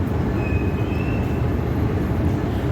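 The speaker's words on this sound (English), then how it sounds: "Maybe that's some Northeast regional train." A passenger train rolls past in Washington, D.C., giving a steady, loud low rumble with a faint thin squeal riding above it, with no talking.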